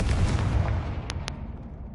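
A Confringo fire-blast spell explodes in the Hogwarts Legacy video game, a loud, dense rumbling boom that fills the first second and then decays, with two short high chimes ringing near the end.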